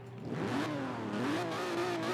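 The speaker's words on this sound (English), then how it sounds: "now that the engine's running, we can rev it up" An Aston Martin DB5 engine revving in Forza Horizon 4, a continuous loud engine note that rises and falls in pitch with throttle blips, steady and close throughout.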